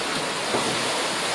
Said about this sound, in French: Avec les vagues.